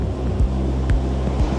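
Ocean surf at a coral reef in Polynesia, a continuous low roar of rolling water with a few soft surges as a wave builds, heard close and steady with no talking.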